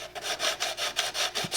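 A Jeep gauge cluster lens from a 1974–1985 full-size Jeep, rubbed back and forth to flatten a nub, producing rhythmic rasping strokes, about seven in quick succession, close up with no talk.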